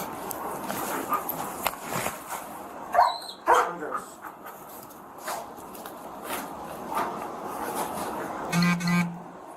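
A police drug dog barks in sharp, loud bursts, with a cluster of barks early on and more later, along with short car horn toots outdoors and traffic noise in the background.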